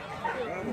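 A husky locked in a metal cage at a dog market gives a single short, whining bark close by, with a voice talking around it.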